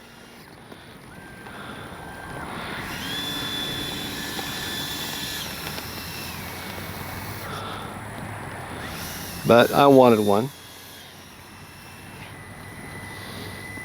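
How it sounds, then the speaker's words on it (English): The motor of a Freewing F9F-8 Cougar RC jet model runs with a steady, whining drone whose pitches shift gradually. A voice briefly speaks over it partway through. "Motor on."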